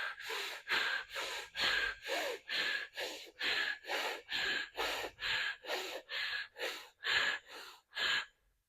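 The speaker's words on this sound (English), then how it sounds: "we're going to start making that breath a little bit quicker" Rapid rhythmic breathing in a fire breath exercise, about sixteen quick, forceful breaths in and out through the nose, evenly spaced and close, with no talking.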